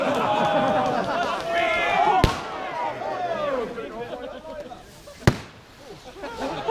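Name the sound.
airsoft pyrotechnic grenade going off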